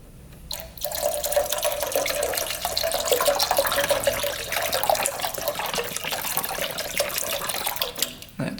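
Tap water gushes steadily into a container mixed with Simple Green degreaser for cleaning hovercraft parts, a loud, close, continuous splashing rush lasting several seconds with a brief break near the end, no speech.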